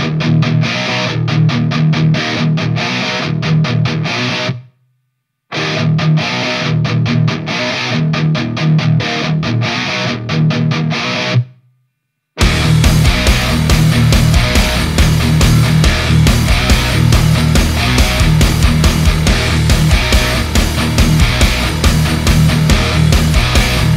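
Heavy distorted metal guitar from an LTD KH602 with EMG pickups, run through S-Gear 2 amp simulation, chugs in loud palm-muted riffs, cuts out briefly twice, then returns in a fuller, sustained roaring section.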